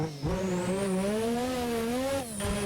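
A Porsche road car fitted with an F1 engine corners at Paul Ricard, its high-revving engine note held loud and close, pitch steady and rising slightly, with a brief dip near the end.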